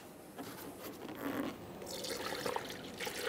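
Coolant trickles and gurgles as it is poured into the cooling system of a 2007-2013 Acura MDX 3.7L V6, a faint, close liquid pour that splashes unevenly and grows slightly fuller toward the end.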